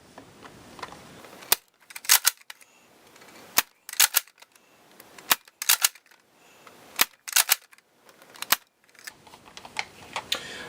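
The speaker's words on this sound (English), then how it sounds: "first up will be 5 shots from my original Elite Alpha Trooper" Stock Nerf Elite Alpha Trooper blaster fires five darts, each a sharp, loud snap followed by a brief whirr of priming, spaced about every second and a half and heard up close with no talking.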